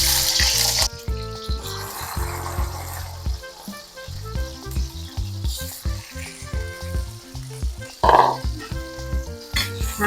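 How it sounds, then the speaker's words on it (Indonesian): Eggplant sizzles and fries in hot oil in a yellow-stained wok, a steady loud crackle with stirring scrapes and a brief louder burst near the end, no voices. "Kita goreng terongnya dulu teman-teman"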